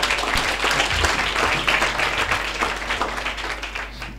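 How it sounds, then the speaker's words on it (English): A church congregation at a Sunday service claps hands, a dense, continuous burst of applause over a low steady hum, loud at first and thinning slightly toward the end. "Clap hands for Jesus."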